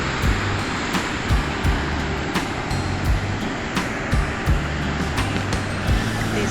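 Surf rolls and breaks steadily onto Lighthouse Beach at Port Macquarie below the Tacking Point lookout, a loud continuous wash with regular surges as each wave comes in, with no voices over it.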